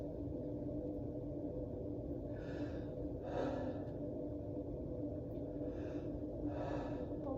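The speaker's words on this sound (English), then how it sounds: "Have you take a deep breath." Deep, slow breaths drawn in and out during a head-to-toe medical assessment, four breathy swells spaced a couple of seconds apart over a steady low background hum.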